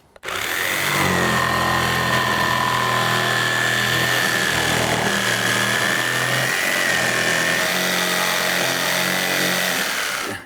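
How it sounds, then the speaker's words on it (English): A jigsaw cuts a semicircle through wood during deck building, a loud, steady whine that runs unbroken for about ten seconds without talk. "Jigsaw blades have this ability to bend left or right when you're cutting"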